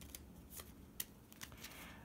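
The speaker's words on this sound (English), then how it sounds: "Let's give them a good shuffle." A deck of tarot cards being shuffled, faint quick riffles and soft card snaps in a few short bursts, close and quiet with no talk.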